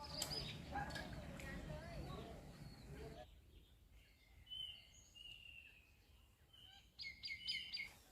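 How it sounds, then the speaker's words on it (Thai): Birds chirp and sing in short bursts at a resort in Khao Yai, Thailand, faint and somewhat distant, after a stretch of background noise at the start. "นี่ครับเสียงนกร้องธรรมชาติดีมากเลย"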